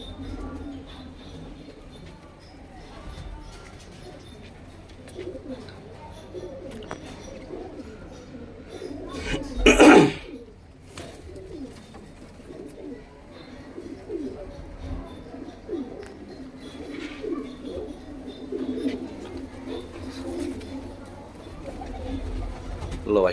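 Lal Cheena pigeons with white eyes coo in a continuous low murmur, joined by a few faint chirps. Someone talks over the birds, and a short loud burst comes midway.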